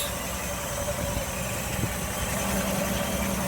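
A 1960 Chevy Biscayne engine runs smoothly at a steady idle, close by, as a continuous low mechanical hum with faint vibration and no pauses.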